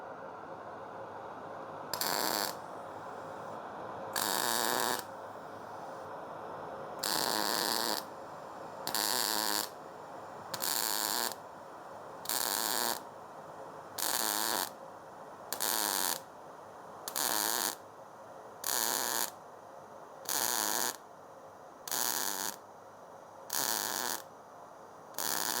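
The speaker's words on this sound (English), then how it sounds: "First I'm going to do 2 tacks, and then I'm going to run an intermittent butt weld." Welding tacks and an intermittent butt weld on steel for a pedal car build: a low electric hum broken by about fourteen evenly spaced short bursts of buzzing, crackling arc, close and clear with no talk.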